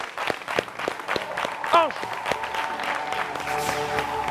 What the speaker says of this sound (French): on va applaudir très fort, s'il vous plaît